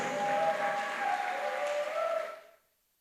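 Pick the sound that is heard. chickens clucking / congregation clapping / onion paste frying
congregation clapping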